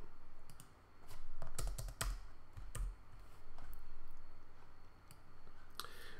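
Fingers tap on a computer keyboard in short irregular runs of quick clicks, close and moderately loud, with brief pauses between bursts.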